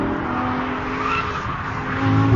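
A rear-drive Lamborghini Gallardo's V10 engine revs hard with a loud, sustained roar and a faint tire squeal, building slightly louder toward the end.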